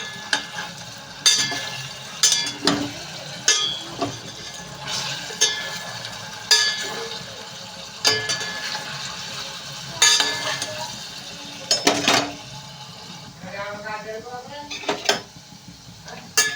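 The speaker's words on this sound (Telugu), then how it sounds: "పన్నీర్ అయితే ఫ్రై అవుతుందండి" Paneer sizzles and fries in a pan while a spatula knocks and scrapes the metal now and then; a voice speaks briefly near the end.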